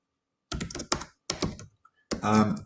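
Close-up typing on a computer keyboard comes in three short bursts of rapid clicky keystrokes with brief pauses between them, and no voice is heard.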